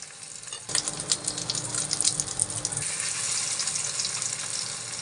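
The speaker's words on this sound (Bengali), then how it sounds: "কাঁচকলার কাবাবগুলো মিশিয়ে তারপর ডুবো তেলে ভেজে নিব।" Raw banana kebabs dipped in egg slide one at a time into deep oil, bringing a rising bubbly sizzle with crackles and spatters that stays fairly loud and close.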